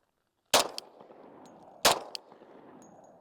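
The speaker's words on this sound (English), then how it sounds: "I'm gonna just practice drawing and shooting from the 10-yard line right here." Two sharp pistol shots from a Glock 40C at a shooting range, fired about a second and a half apart, each loud and close with a short ringing tail and faint metallic clinks after.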